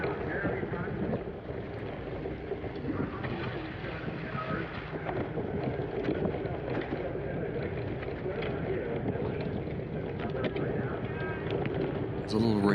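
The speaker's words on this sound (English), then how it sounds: "It's a little rainy and windy and not the warmest day" Steady wind buffets the microphone on a rainy, cold day at an outdoor cyclocross race, a continuous broadband rush that runs the whole time with faint sounds mixed underneath.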